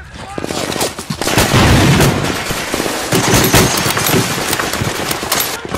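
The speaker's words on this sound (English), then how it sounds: "They're firing on the third gun." Dense gunfire and explosions in a Lego WW2 D-Day Normandy landing stop-motion film, rapid loud bursts and booms rolling continuously, with voices shouting under the barrage.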